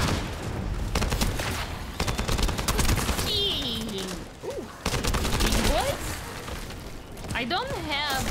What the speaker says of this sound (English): Please stop shooting me from behind.